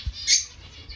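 Parrot chicks just out of the nest give a single short, bright squawk near the microphone, with a faint low bump just before it and quiet room noise otherwise.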